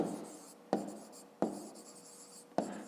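A pen writes out a math answer on paper in close, quiet scratchy strokes, broken by three sharp taps of the pen against the surface.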